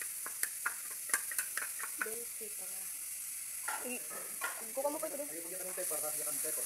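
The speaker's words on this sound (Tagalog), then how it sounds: "Igisa ng maigi." Onion and long chili sauté in a pan with a continuous close sizzle, while spatula clicks and scrapes tap along in quick irregular bursts.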